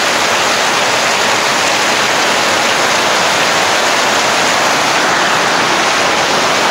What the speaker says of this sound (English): We're experiencing a colossal tropical downpour.